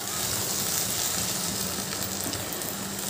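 A splash of water poured into cumin-spiced masala frying for a dahi katla fish curry, giving a soft, steady sizzle with faint bubbling at moderate distance and no one speaking.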